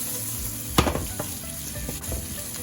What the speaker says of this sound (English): You don't want to shake it too much, or you're going to lose some of your bacon or onion like I just did.